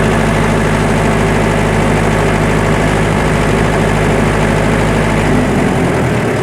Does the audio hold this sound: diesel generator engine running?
yes